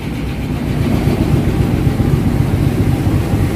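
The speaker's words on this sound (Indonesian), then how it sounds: "Lokomotif lokal ini sudah mulai dilepas, penuh di stasiun Garut." Local CC201 diesel locomotive at Garut station on New Year's Eve, a loud, close, steady low engine rumble that idles continuously.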